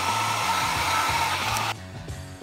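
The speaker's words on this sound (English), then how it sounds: "I'm going to speed up the drying process with a hair dryer" A hair dryer on its lowest, cold-air setting blows with a steady whooshing hum, then cuts off abruptly near the end, leaving a quieter background.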